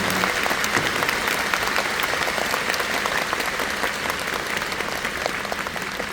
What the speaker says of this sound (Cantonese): 所以好想你哋用掌聲去鼓勵下現在你哋坐喺度嘅每一位嘅自己